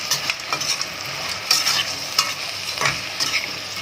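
Green beans frying in ghee with onion, a steady close sizzle with repeated stirring scrapes of a utensil in the pan, no voices.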